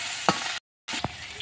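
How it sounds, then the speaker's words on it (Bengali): Ginger tempering sizzles in hot oil in a pan with a steady fry hiss. A brief stir clicks before a short dropout, and the frying resumes with another light scrape. "আমি ভালো করে ভেজে নেব ফোড়নটাকে।"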